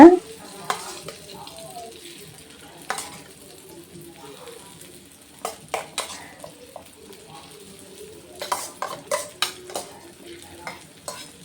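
Egg paniyaram batter fries in a generously oiled paniyaram pan, giving soft sizzling with intermittent scraping and stirring clatters in bursts, over a quiet background.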